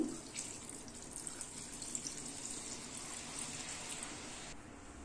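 About 1.25 litres of water pours into a pressure cooker with mutton and urad dal, running steadily in a continuous hissing stream for several seconds, close by, with a faint splashing texture and no voices.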